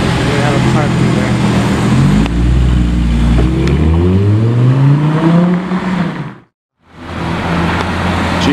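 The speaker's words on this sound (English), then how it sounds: "GT3 on the way out." A GT3 sports car drives out with a loud, close engine roar that climbs in pitch as it accelerates and revs. Voices are heard talking over it before a brief cutoff.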